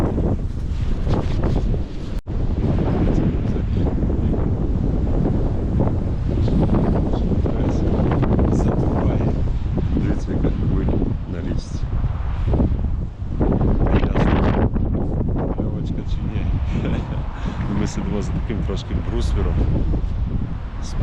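Strong wind buffets the microphone outdoors during ide fishing, a continuous loud rumbling roar with gusts, while a person talks over it.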